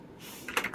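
Fingers tapping on a computer keyboard while an object is set up in a game engine, a quiet run of quick clicks that grows into a louder, denser burst of keystrokes near the end.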